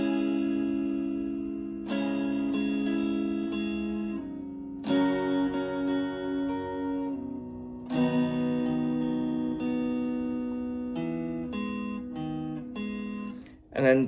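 Electric guitar, a Yamaha Pacifica PAC112VM, played through its bridge single-coil pickup, ringing out bright, twangy strummed chords in three or four bursts that sustain and decay, fairly loud and with no voice over them.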